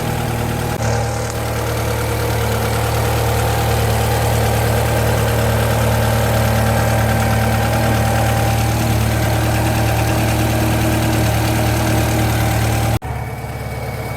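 A Japanese import car engine idles steadily while warming up, a loud, even, close drone with a constant low hum that runs unbroken for most of the stretch before cutting off abruptly near the end.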